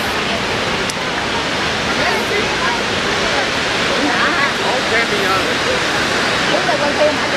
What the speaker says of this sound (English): We finally made it to the beach, guys.